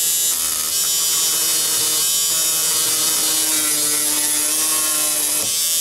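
A 550 electric motor under test whirs loudly with a rough, ratcheting grind, holding steady and then cutting off near the end, heard close with no speech.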